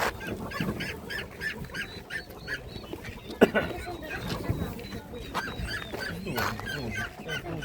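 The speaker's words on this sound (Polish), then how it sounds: "I tutaj mamy kaczki." Ducks and geese at an open-air livestock market in Szczuczyn, Poland, honking and quacking in bursts amid market bustle and nearby conversation.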